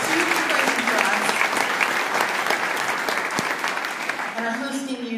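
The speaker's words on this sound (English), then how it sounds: "Please give a round of applause to our board of directors." Sustained audience applause at an education conference, a dense wash of many clapping hands lasting several seconds, with a voice speaking briefly beneath it toward the end.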